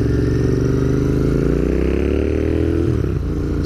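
Royal Enfield Interceptor 650 revving hard through aftermarket exhaust pipes with the baffles removed, a loud close twin-cylinder roar that climbs in pitch and then eases off near the end.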